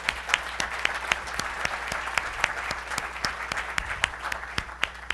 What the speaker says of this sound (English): if you can give a round of applause for Ken and Manuel